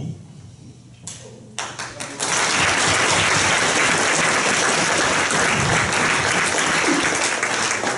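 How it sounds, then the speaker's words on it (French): Sustained audience applause for the volunteers at a graduation ceremony, a few scattered claps building around two seconds into a loud, dense, steady ovation that carries on to the end with no talk over it. "Enfin, une main d'applaudissement aux personnes qui ont donné de leur temps et énergie"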